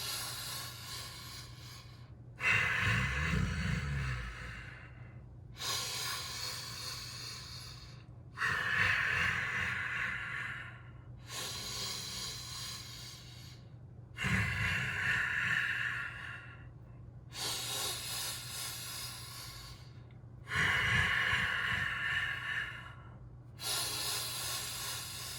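Slow, deep breathing during a yin yoga practice, with long hissing inhales and exhales in an even cycle of roughly six seconds, close and quiet with no speech.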